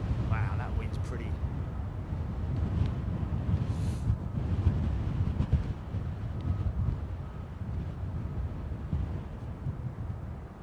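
Wind buffets the microphone at Heathrow airport: a steady, loud, low roar with gusty rumble that runs unbroken for the whole stretch.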